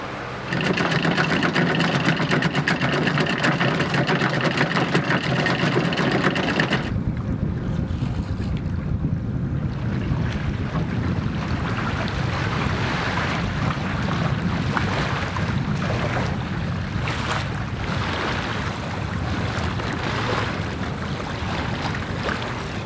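A sailboat motors under engine power across open ocean near Airlie Beach in the Whitsundays, giving a steady close engine drone with wind buffeting the microphone and water rushing past the hull, loud and continuous throughout.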